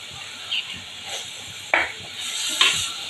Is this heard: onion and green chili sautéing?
yes